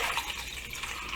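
Water poured into a mixing container while making one-part molds, a steady close splashing pour running continuously without pause.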